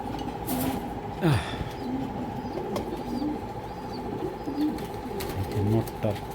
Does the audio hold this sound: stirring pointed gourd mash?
no